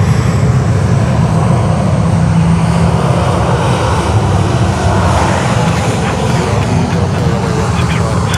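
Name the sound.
airliner taxiing at Sydney Airport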